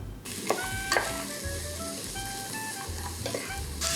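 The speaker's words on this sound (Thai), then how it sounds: "เดี ๋ยวเราจะผัดหอมใหญ่แครอทเซเลอรี่ครับ" Onion, carrot and celery sizzle steadily in a hot pan while a utensil stirs and scrapes, with occasional clinks over the constant frying hiss.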